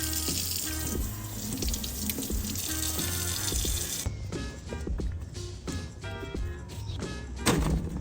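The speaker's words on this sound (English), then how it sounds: "we want to run it under the sink and wash off all this extra season and spices" Seasoned pork belly for homemade bacon rinsed under a running kitchen sink tap, a steady loud gush of water with clattering handling and knocks throughout, the spray changing briefly about halfway.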